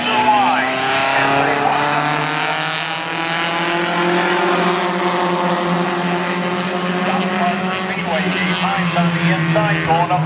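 Four-cylinder race cars roaring around Spencer Speedway during a heat race, engines droning continuously with rising and falling pitch as the pack passes, loud under a track announcer's steady commentary.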